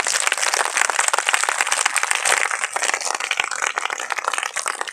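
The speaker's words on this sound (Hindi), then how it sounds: "एक बार हाथ ऊपर करके तालियां हो जाए।" Schoolchildren clap with raised hands at a gathering, a bright, crackling burst of many small hands, fast and uneven, close and loud throughout.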